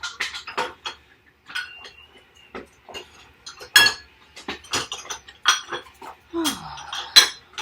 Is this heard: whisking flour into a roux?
yes